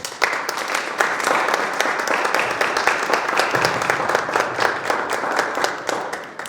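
Audience applause welcomes the coordinator of the Universidad Católica Santa María museum at a book presentation, a steady dense clapping from a room of people that holds at even loudness throughout.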